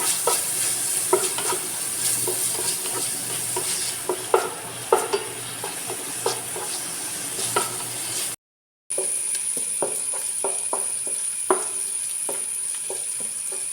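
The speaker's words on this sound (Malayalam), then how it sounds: "സവാള മുരിയാനായിട്ട് കുറച്ച് ഉപ്പ് കൂടി നമുക്ക് ചേർക്കാം ഇനി നന്നായിട്ടൊന്ന് വഴറ്റി" Onions sautéed with salt in a pan sizzle steadily while a spoon scrapes and stirs in repeated strokes, close and moderately loud, with a brief dropout partway through.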